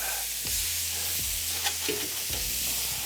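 Burger slider patties sizzling on a hot griddle, a steady frying hiss with several scraping spatula flips and clacks against the metal surface.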